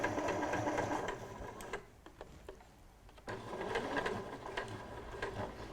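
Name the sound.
sewing machine stitching along a piping cord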